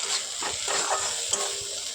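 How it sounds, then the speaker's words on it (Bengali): Spices with turmeric, chili powder, ginger and garlic fry and sizzle in a pan for a sour puti fish dish, with a steady hiss broken by repeated scraping stirs. "একটু মশলাটাকে ভাজা ভাজা করবো"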